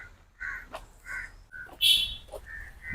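A crow caws several times in short harsh bursts, close and fairly loud, with a human voice cutting in between the calls.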